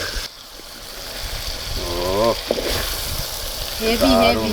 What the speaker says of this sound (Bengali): এদিকে আমাদের মাংস কষানো হচ্ছে